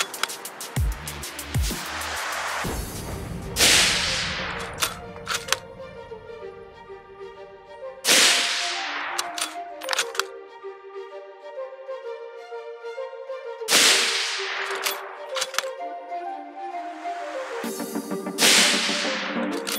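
Ruger Precision Rifle in .308 firing Freedom Munitions 115 grain full metal jacket rounds, four sharp loud shots spaced several seconds apart, each followed by a ringing echo and action noise.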